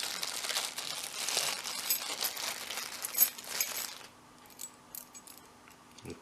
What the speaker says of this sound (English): With plenty of working keys.